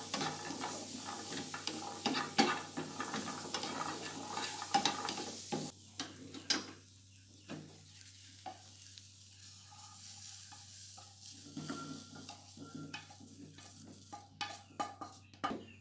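Shallots dry-roasting in a pan for an Indomie Goreng dish with Bangladeshi spices: a soft crackle and sizzle with intermittent stirring scrapes. A hiss is heard at first, then it drops to quieter, sporadic stirring.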